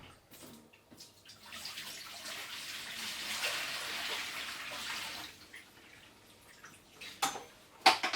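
Dirty coloured water from a cider-making demijohn poured down a sink, a steady gushing pour lasting several seconds that tapers into a few drips and clunks.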